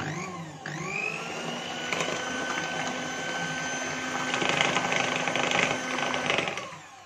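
An electric hand mixer beats strawberry cake batter on its lowest speed while flour is added a spoonful at a time, giving a steady whirring motor hum with a faint rattling edge, close and continuous.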